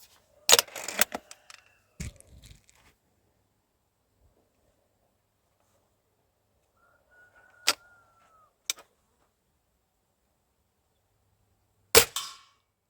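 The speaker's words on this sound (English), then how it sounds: "that ding sound was satisfying" Several sharp, sparse shots from a pellet rifle, with short metallic pings between them and quiet pauses, the last shot loud and close.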